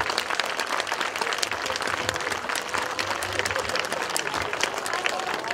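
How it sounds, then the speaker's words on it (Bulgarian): An audience claps steadily at an anniversary celebration for a kindergarten, many hands in a continuous crowd patter filling the room, with faint voices murmuring underneath. "Аплодисменти, моля."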